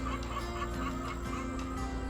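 Chickens clucking on pasture near mobile coop wagons in a steady background murmur, with occasional louder clucks over a constant low hum.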